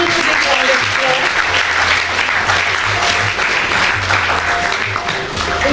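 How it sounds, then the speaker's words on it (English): Audience applause at a children's award ceremony, sustained and loud from a sizeable crowd, with a low hum and some voices underneath the clapping. "Give him a big round of applause."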